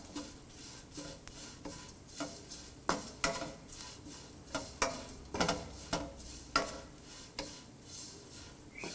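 Fennel seeds and coconut sautéing in a pan as a spoon scrapes and stirs without pause, giving regular close clicks and scrapes over a soft sizzle, no talk.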